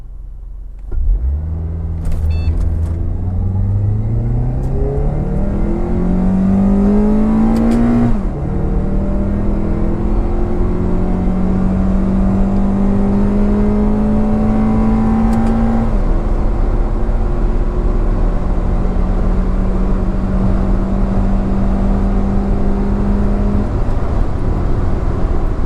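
A 2006 Acura TSX at a drag strip, its engine revving hard under full acceleration: a loud, continuous rising drone broken by two upshifts, then holding a strong steady pull to the end.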